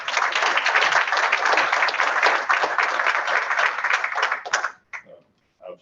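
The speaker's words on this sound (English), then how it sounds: "Let's give our entire crew a round of applause." A board meeting audience gives a round of applause for crew members and award recipients, a loud, dense clapping that holds steady for nearly five seconds, then stops abruptly, leaving a few faint stray sounds.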